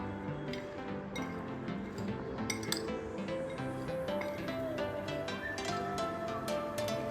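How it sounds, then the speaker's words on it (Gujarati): A spoon clinks and scrapes against a glass or steel bowl while chaat masala and lemon juice are stirred into a sprouted moong salad, a quick irregular run of close, bright taps with no talk. "અને લીંબુનો રસ આપણે એડ કરશું થોડો અને આ મસાલાને છે ને આપણે મિક્સ કરી લઈશું"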